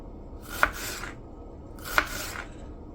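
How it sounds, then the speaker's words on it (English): Two crisp knife cuts through an onion as it is thinly sliced on a board, about 1.4 seconds apart, each a short crunchy stroke, close by and quiet, with no voices. "I like to thinly slice the onions, like so."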